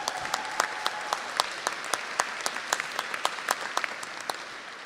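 Steady audience applause at a graduate convocation ceremony, many hands clapping in a dense, even patter at moderate distance, continuing for the whole stretch without voices.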